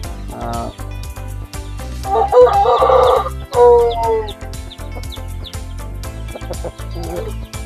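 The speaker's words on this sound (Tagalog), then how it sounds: "At ito po yung barako natin." A farmyard rooster crows loudly and close by, one long crow with a few clucks and other fowl calls around it and a steady low hum underneath.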